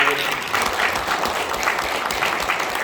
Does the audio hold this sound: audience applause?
yes